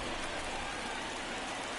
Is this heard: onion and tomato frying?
no